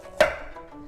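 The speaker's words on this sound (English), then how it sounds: "I'm going to mince the ginger." A single sharp knife chop on a board while ginger is minced. It is one crisp, close strike with a short ringing tail, alone and without talk.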